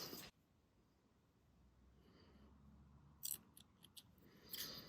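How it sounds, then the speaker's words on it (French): A few quick, quiet snips of scissors cutting knitting yarn in a calm room, short crisp bursts near the end after a faint hush. "Je vais couper le fil."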